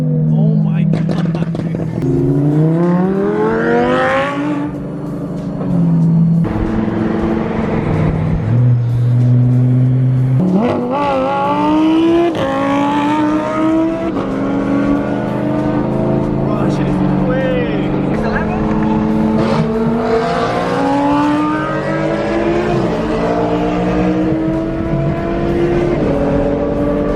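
Straight-piped BMW E92 M3 engine revving and accelerating hard, its exhaust note climbing repeatedly through rising sweeps, loud and close, with people talking over it.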